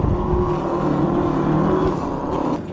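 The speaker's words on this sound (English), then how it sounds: "these tires are so loud" A Happyrun G50 electric bike rolls along on loud tires, giving a steady, close roar of tire and road noise with a broad hiss that holds constant throughout and carries no talk.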